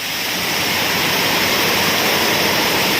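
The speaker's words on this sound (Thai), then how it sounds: "ไหลมาแรงมาก ไหลมาจากนู่นนะครับ ลงมาไปหลังบ้านนะครับ" Floodwater surges hard after a storm, giving a loud, unbroken roar of rushing water close by. The sound is steady and alone, with no voices.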